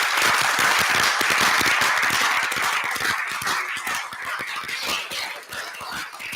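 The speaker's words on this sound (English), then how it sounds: "Let's give them a round of applause." A church congregation at a Sunday service at Springdale Lutheran gives a sustained round of applause, dense clapping that stays steady and fairly loud throughout, easing slightly toward the end, with no talking over it.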